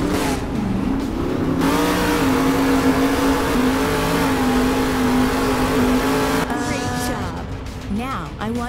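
A monster truck engine revs in Monster Jam Steel Titans 2, a loud droning motor whose pitch rises and falls with the throttle, cutting out near the end before brief rev bursts.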